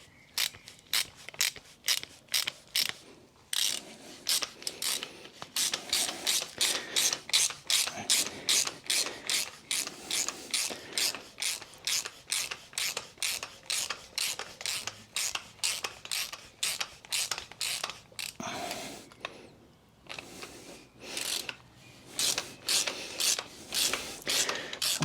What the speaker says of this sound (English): For better leverage, I will use the wrench.